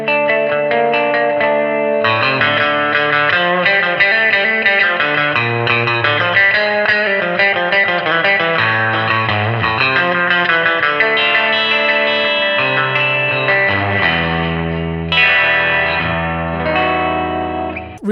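Electric guitar through the Kazrog Airline amp plugin with a drenched, springy reverb and slight grit, playing a steady melodic line alone, with a lively, wet surf-style tone throughout.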